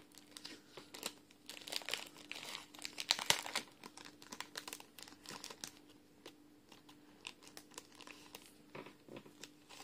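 Plastic bag crinkling close up, irregular rustles and crackles with a few sharper crunches, no talking.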